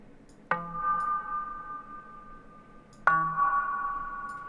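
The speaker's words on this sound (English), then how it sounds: "So this one is a simple bass shot" Two synth bass hits about two and a half seconds apart, each with a sharp attack and a sustained, ringing electronic tone that slowly fades.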